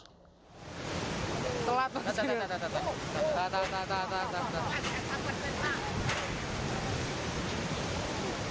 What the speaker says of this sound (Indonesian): Derasnya arus banjir juga mengakibatkan jembatan putus dan hanyut terbawa arus.